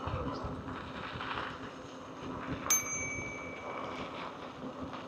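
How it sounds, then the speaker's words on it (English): A single bright ding from a bicycle bell on the handlebars rings out once mid-ride and fades over a steady rush of wind and road noise on a morning bike ride. "Just testing the bell out because I was adjusting things on the handlebars yesterday."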